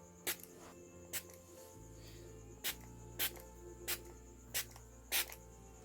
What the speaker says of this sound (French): je prends mon spray.